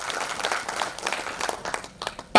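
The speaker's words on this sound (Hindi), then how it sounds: "एक बार ताली बजा के अपना अपना स्वागत करिए पहले इस हॉल में।" An audience in a hall at a Suheldev Bharatiya Samaj Party national convention in Mumbai claps with scattered, uneven applause that rises and falls for a couple of seconds.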